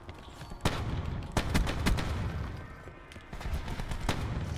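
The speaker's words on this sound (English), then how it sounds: "We have some gunfire over here." Gunfire in the video game Black Ops 4, several sharp shots cracking out at irregular intervals over a busy in-game background, loud and close with a short burst near the end.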